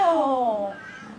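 A cat gives a single drawn-out meow with a falling pitch, close and fairly loud, fading away within about a second.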